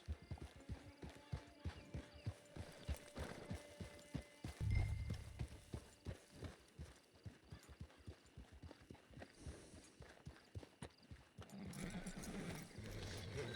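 Horse hooves clip-clop steadily in Red Dead Online, approaching a camp, with a single whinny around the midpoint; the galloping rhythm is close and continuous, joined by a low thump and a wider rumble near the end.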